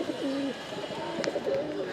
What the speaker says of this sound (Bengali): ফার্স্ট কবুতর আসছে আলহামদুলিল্লাহ